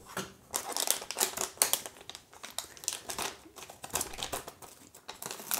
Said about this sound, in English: Let me just get something to cut this open with.